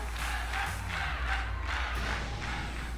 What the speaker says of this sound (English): The crowd's so loud it could wake the dead.